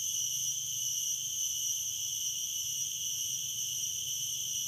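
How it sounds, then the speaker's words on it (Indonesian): Garengpung cicadas keep up a steady, shrill, buzzing drone throughout, loud and continuous with no talking, heard at a riverside fishing spot. "Ditemani sama suara-suara garengpung di sini."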